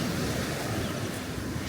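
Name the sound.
waves breaking on Southwold beach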